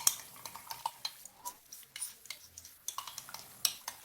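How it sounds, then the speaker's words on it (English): Rapid spoon clinks and stirring scrapes in a bowl as a tablespoon of cornstarch is mixed into fresh orange juice for a salmon sauce, close and rhythmic with no talking. "I'm going to add in 1 tablespoon of cornstarch first and just give that a mix in the orange juice."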